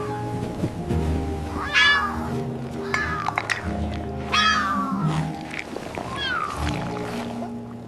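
A cartoon cat meows several times, with bright, drawn-out calls spaced over a few seconds, heard up close over a backing of soft music.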